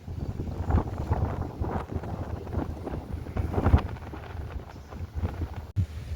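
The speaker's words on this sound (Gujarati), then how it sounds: "પવન છે ને જરાય મોરો નથી પડતો." Strong wind gusts buffet the microphone outdoors in a village, a steady rumbling roar with heavier surges and brief dropouts, no voices present.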